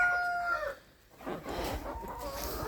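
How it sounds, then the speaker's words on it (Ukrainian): Chickens clucking and a rooster crowing nearby, with steady farmyard bustle and some rustling throughout. "Що це за кури?"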